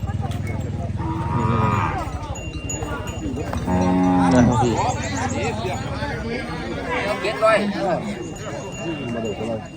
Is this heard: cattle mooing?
yes